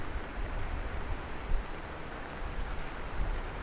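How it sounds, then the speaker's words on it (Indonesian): Rain falls outdoors over a paddy-field road, a dense steady hiss of drops on surfaces with no voices heard. "Ini hujan, saya hujan-hujanan teman-teman."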